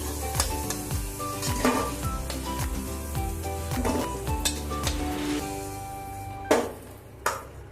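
Potatoes frying in hot oil in a home kitchen, a steady sizzle under repeated stirring and scraping, with metal pan clinks and two sharp knocks near the end; no one speaks.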